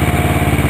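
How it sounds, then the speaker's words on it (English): A 1983 Suzuki GR650 motorcycle engine runs steadily, a smooth, even low throb with a fast regular pulse, close and fairly loud for a brief moment. "Very quiet motor, very smooth running."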